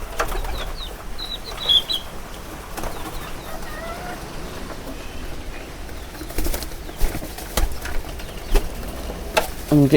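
Bursts of wing flapping from a local pigeon with pox in its ear as it is caught, with a few soft coos and scuffling in between, fairly close.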